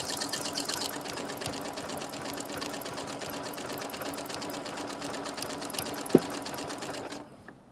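A sewing machine stitches in a fast, steady whir of needle strokes for several seconds, a single sharp click from the finishing button near the end, then stops.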